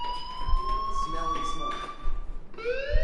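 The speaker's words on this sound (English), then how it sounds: "Hey, do you hear that fire alarm?" A school fire alarm in the Life is Strange video game rings with a steady electronic tone that holds, pauses, then sounds again, while someone talks over it.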